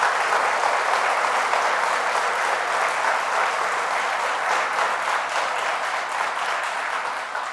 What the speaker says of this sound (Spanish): Fuertes aplausos al Señor y Salvador Jesús